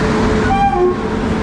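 The Avantika Express pulls into a station platform, a loud close rumble of wheels and carriages with a brief tonal horn-like whine rising over the din.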